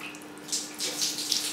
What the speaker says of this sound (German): wenn man hier den Wasserhahn anmacht.